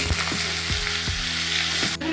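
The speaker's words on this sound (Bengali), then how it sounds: "একটু নুন দিয়ে ভাজতে থাকবো, একটু সামান্য ভাজবো" Chopped potatoes fry in hot oil seasoned with whole cumin, bay leaf, dried chilli and cinnamon for a banana-flower dish, giving a steady close sizzle broken by a few soft stirring scrapes.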